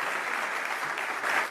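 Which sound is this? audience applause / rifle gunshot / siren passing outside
audience applause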